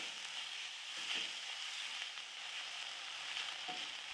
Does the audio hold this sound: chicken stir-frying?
yes